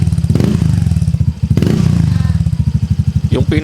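Yamaha Fazzio scooter fitted with a CRP powerpipe exhaust revs at high RPM, a loud, close, rapid pulsing drone that swells in two bursts and ends in a quick throttle blip.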